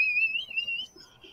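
A thin, high, wavering whistle sounds clearly through a quiet room during a resin-crafting session, then trails off into faint background noise.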